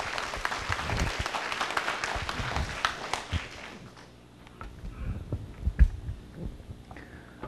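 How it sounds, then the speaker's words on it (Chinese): A church audience claps to welcome a pastor, a dense, steady applause for about four seconds that then thins into scattered claps and faint room noise. "也拍手来欢迎牧师，"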